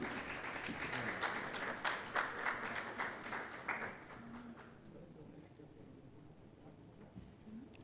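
Audience at the Jamaica Teachers' Association annual conference awards ceremony applauding a finance committee chairman, with distinct close individual claps over the crowd for several seconds before the clapping fades into quieter room noise.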